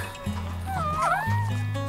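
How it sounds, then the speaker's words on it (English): A dog gives a short, high whining yip that bends up and down, close and fairly faint, over a constant low droning hum. "Who's that dog? First time meeting the dog."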